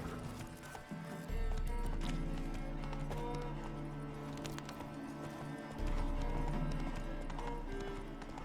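Roach, Geralt's horse in The Witcher III on PS5, galloping with a rapid, steady clip-clop of hooves close by, joined by a low rumbling drone, loud and continuous after a brief quieter start.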